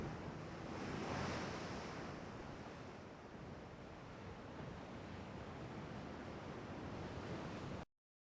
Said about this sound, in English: Daytime, overcast, moderate breeze, slight waves.